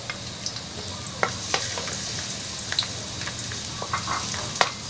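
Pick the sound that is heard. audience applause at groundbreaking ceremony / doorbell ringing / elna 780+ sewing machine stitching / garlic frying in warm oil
garlic frying in warm oil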